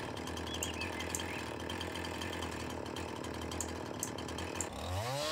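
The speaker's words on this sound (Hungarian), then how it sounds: "Tök jó, jó, jó fűrészelés a játékban, bírom egyébként." A chainsaw in the video game Farming Simulator 19 drones steadily as it cuts through wood, then its engine pitch sweeps upward in a final rev.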